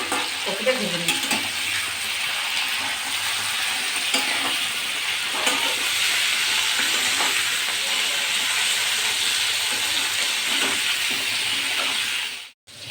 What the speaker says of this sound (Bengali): এবার আমি ভালো করে কপিটা ভেজে নিচ্ছি।